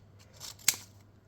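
A single crisp snip of scissors cutting through paper, loud and close, with a faint soft rustle just before it and no voices.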